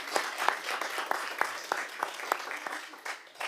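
Scattered applause from a modest audience at a board of education meeting, individual claps distinct and moderately faint, no talking over it.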